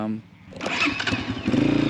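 A farm tractor engine on an Australian sheep farm cranks and catches after a brief quiet moment, then settles into a rough, loud running idle close by.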